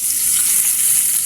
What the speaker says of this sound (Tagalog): mukhang masarap yung niluluto mo, Saya.